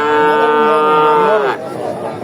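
A cow gives one long, loud, close moo at a cattle market, fading out, followed by faint background murmur.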